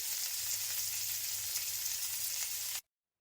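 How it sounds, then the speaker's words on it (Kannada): Chicken keema curry ingredients sizzle and fry steadily in a pan, a close, even crackle that runs continuously before cutting off abruptly near the end. "ಇದನ್ನೆಲ್ಲ ಚೆನ್ನಾಗಿ ಹುರ್ಕೋಬೇಕು"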